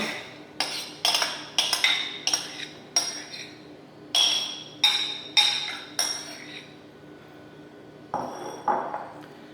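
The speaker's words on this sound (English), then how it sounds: "I'm going to start first by adding my diced mango" Diced mango being spooned into a bowl for salsa, a run of bright clinking taps of a utensil against the dish, close and distinct, with a short pause before a final pair.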